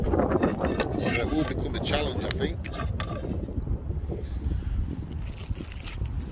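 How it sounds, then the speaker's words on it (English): Strong wind gusts buffet the microphone at an urban winter campsite, a rough rushing noise that rises and falls under a nearby person speaking. "You can hear the wind."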